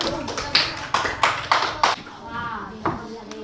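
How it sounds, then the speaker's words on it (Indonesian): A primary school class applauds a pupil named Rafiq, a few separate claps and taps ringing out near and fairly loud, with a teacher's voice heard between them. "Tepuk tangan dulu untuk Rafiq."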